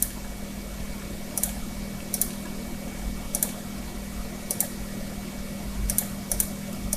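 Computer keyboard keys, including Enter and Delete, are pressed one at a time, giving sparse, crisp clicks at irregular intervals over a faint steady hum, with no one speaking.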